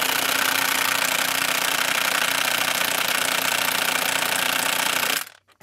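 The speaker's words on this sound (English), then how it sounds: "that half inch impact driver ain't no joke." A half-inch impact driver hammers continuously at close range during a heavy vehicle repair, a loud, dense rattling burst that runs for about five seconds and then cuts off abruptly.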